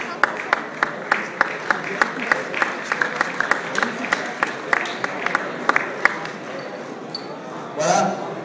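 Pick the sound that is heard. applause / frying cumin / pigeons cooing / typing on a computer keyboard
applause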